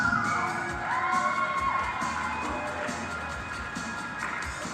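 A roller derby crowd cheers for the Saskatoon Killa Bees against the Regina Gravediggers, a sustained wash of shouting, whooping and cheering voices that stays fairly steady and moderately loud throughout.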